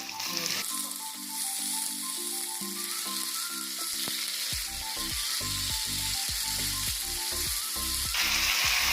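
A whole tomato roasting in hot oil for chutney, a continuous bright sizzle with steady spattering crackle and a run of rhythmic clicking and scraping in the second half, heard alone without speech.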